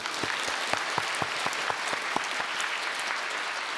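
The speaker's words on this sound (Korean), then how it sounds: "감사 박수 올려드리겠습니다" A church congregation gives a round of thankful applause during an Easter sermon, steady moderate clapping with a few sharper individual claps standing out, no speech over it.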